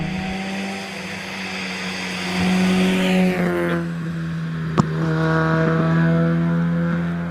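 A race car climbs the Doune hillclimb course during a British Championship event, its engine revving through rising gear changes and passing loudly nearby, with a sharp pop midway and steady harmonic whine.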